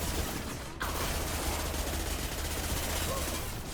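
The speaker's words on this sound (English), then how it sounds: "this thing just sprays ammo all over me" Sustained machine gun fire spraying ammo in the video game Mass Effect 2, a dense continuous rattle of gunfire filling the clip with a brief dip near the start.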